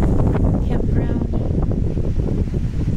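Strong wind roars steadily across a microphone at a beach campground in Davis Camp Park, Bullhead City, Arizona, as a loud, constant broadband rumble with gusty surges.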